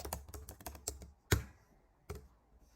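Typing on a computer keyboard, a quick run of close key clicks followed by a louder single keystroke and one more isolated tap after a short pause.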